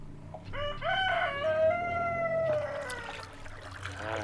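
A rooster on a farm crows one long, drawn-out call up close while chickens cluck around it, with no talking.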